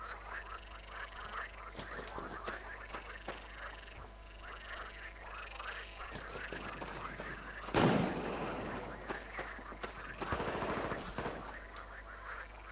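Rapid gunfire from a weapon in the online shooter game Will To Live Online, with irregular clusters of sharp, crackling shots over a steady low hum and a louder burst near the middle.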